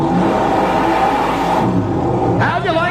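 A 511 cubic inch aluminum Chevrolet Rodak racing engine in the Wild pickup roars loud and close in a steady, dense rumble, easing off briefly near the end, with a voice talking over it.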